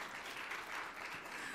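Congregation applause at an Indonesian church service, a short stretch of steady, even clapping from many people, fairly soft and continuous, with no speech over it.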